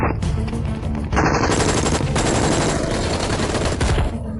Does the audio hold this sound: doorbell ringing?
no